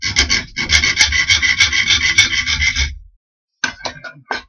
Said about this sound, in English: we just turn it a little bit and continue our sawing